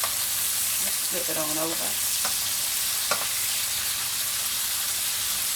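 Bacon sizzles steadily in a pan with a dense, constant hiss, close and fairly loud, while a person briefly speaks over it.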